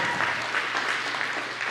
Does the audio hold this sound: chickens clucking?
no